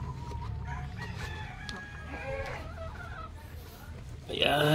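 Dekalb Brown laying hens in a coop, clucking and chattering in short bursts with a rooster-like crow, faint and close, as a person talks nearby and a louder burst comes at the end.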